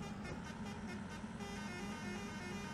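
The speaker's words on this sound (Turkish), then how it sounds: "Kornamı duymuyor musun kardeşim?" A bus horn honking in the mobile game Bus Simulator Ultimate, a sustained tonal blare held for several seconds, faint and buzzy over low engine rumble.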